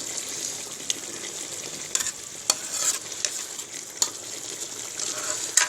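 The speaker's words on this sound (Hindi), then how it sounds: "अब दोस्तों इसके अंदर हम ये टमाटर और प्याज का पेस्ट डालेंगे।" Tomato and onion paste frying in a karahi crackles with a soft continuous sizzle, punctuated by sharp spatters and stirring scrapes every second or so, close and without voices.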